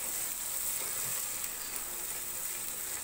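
Chili powder and fresh spices sauté in a pan for chicken curry, giving a steady, close hiss of sizzling oil that holds evenly throughout with no voices.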